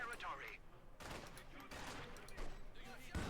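Mortar and field gun fire in the Company of Heroes 2 battle game, several sharp blasts and bursts of gunfire in quick irregular succession, fairly faint, mixed with battle noise.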